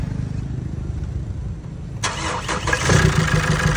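A Chevrolet Trailblazer with a black smoke, no RPM fault cranks for a moment, then the diesel fires in one click and settles into a loud rough idle, close up and without speech.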